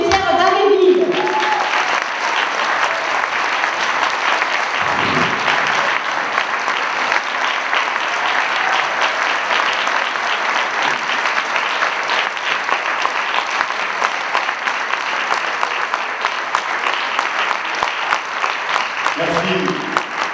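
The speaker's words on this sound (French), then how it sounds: "je vous demande de faire une salle d'applaudissements pour notre députée Pierre Daméville." A large crowd at a political rally on pensions claps continuously, a thick, loud, sustained wall of applause lasting the whole stretch, with brief voices audible at the start and end.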